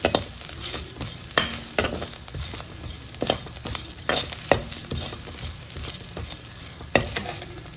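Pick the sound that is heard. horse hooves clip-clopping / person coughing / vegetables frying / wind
vegetables frying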